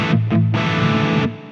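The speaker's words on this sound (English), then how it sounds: "I actually don't mind this distortion sound." An electric guitar through the overdrive effect of a Zoom 505 effects processor, with heavy reverb: two short distorted chord stabs, then one long sustained chord that rings out, loud and alone.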